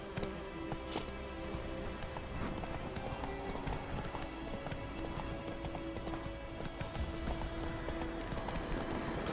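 Horse galloping in The Witcher 3 video game, a steady rhythmic clip-clop of hooves running continuously at close range under a constant backdrop of in-game music and ambience.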